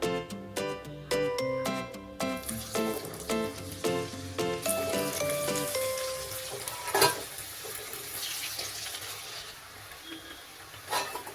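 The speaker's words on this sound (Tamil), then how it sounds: "நல்லா காஞ்சிட்டு எண்ணெய். இப்போ இந்த உருட்டி வச்சுட்டு இருக்கிறத ஒண்ணா போட போறேன்" Gobi kofta balls of rolled cauliflower dough dropped into hot oil and frying, a continuous crackling sizzle that builds after a run of background music and carries on steadily.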